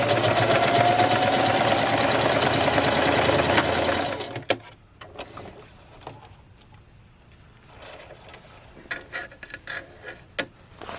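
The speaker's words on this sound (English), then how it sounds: "So I'm going to stop sewing about 3/8 of an inch." A sewing machine stitching fabric pockets for a plus-size shirt dress runs loud and fast in a steady whirring rattle for about four seconds, then stops, leaving scattered faint clicks and handling taps.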